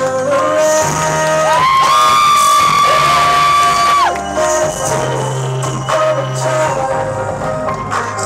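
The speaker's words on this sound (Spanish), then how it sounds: "Señoras y señores, vamos a recibir con un caluroso aplauso a la ministra." A crowd cheers and whoops for the queen's entrance at an evening celebration, with loud shouts over music carrying a bright sustained tone, continuous and fairly close.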